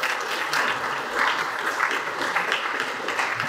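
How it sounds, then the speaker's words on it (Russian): A loud burst of audience applause at an IT conference talk fills the hall, many hands clapping in a thick, sustained stream that swells and dips slightly with no speech. "Ваши аплодисменты."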